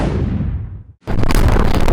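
Artillery fires at a hospital in Gaza, with a loud roaring blast that trails off over about a second before another abrupt, heavy boom hits and rumbles on at full strength.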